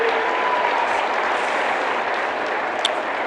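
Audience at a political rally in Nava Raipur, Chhattisgarh, applauding in a steady, dense wash of clapping that holds evenly from start to finish, loud and without pause.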